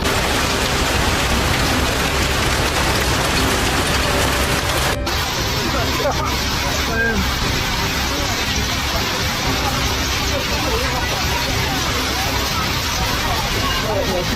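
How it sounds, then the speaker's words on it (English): Heavy rain pours steadily during a flood in Savona, Italy, a dense, loud, continuous hiss of downpour on surfaces with faint traffic and voices underneath throughout. "Recorded 55 millimeters of rain in just 1 hour."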